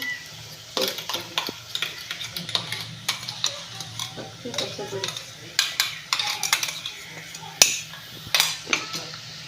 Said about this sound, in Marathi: कांदा भाजून घेते आणि दाखवते.